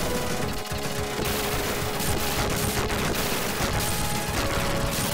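Gunfire from the Gunstar Heroes video game in co-op play rattles on as a dense, loud, nonstop barrage of rapid shots with no talking.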